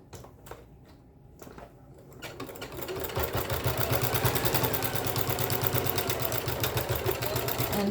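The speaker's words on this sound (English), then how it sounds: "we have to finish sewing down along there" Sewing machine stitching down the binding on a quilted heart potholder, a few slow stitches at first, then a steady, fast, even run of needle clatter close by.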